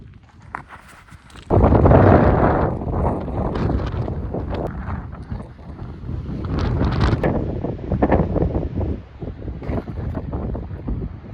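Wind buffets the microphone outdoors in Cornwall, a low gusty roar that jumps sharply louder after a quiet start and keeps rumbling unevenly.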